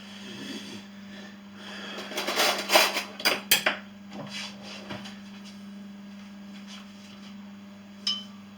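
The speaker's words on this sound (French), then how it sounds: "Faut que je le fasse descendre avec une cuillère" A metal spoon scrapes and knocks herring boilie mix down inside a container, a cluster of clattering scrapes in the middle with a lone clink near the end, over a steady low hum.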